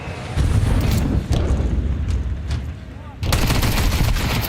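Gunfire from a pistol round in a Counter-Strike professional match, dense bursts of rapid shots and rumbling fire in close succession, mixed with excited commentator talk and crowd noise.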